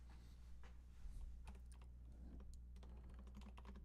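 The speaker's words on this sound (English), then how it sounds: "New keyboard." Rapid keystrokes on a new computer keyboard during a coding session sound as irregular bursts of clicks and taps, fairly close but quiet, over a low steady background hum, with no talk.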